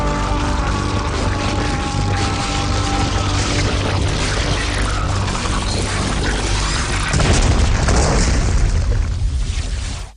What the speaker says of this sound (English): Frost to erupt in an explosion of gore